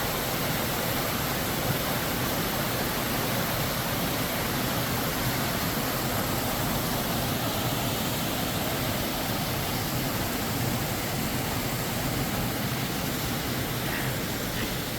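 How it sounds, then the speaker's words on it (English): A continuous, loud roar of the Happy Creek Waterfall in North Cascades National Park fills the whole stretch, steady and unbroken, with no voices. "I'm guessing it's the Happy Creek Waterfall."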